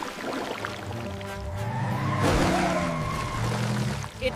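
Cartoon monster truck tires skid and spin in slippery mud, a steady whirring squeal with rising and falling tones that swells in the middle and runs on without talk.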